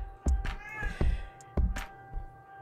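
Hungry cat meowing near a kitchen where mutton curry is cooking, several distinct close meows in a row, loud and insistent with brief gaps between calls.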